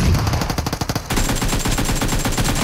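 Rapid automatic AKM rifle fire with a Jack-O-Lantern skin in a PUBG Mobile team deathmatch, loud, close bursts of shots hammering in dense succession with a brief pause before a second sustained volley.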